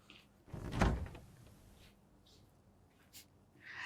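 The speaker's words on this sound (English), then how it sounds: "Let me quickly shut it and get back." A refrigerator door is pushed shut in a home kitchen, giving a single soft thump, followed by faint rustling and small clicks in a quiet room.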